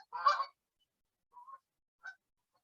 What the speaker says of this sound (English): So that is a flock of geese when they're migrating in the sky.